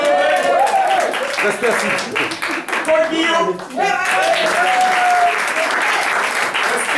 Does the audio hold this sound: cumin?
no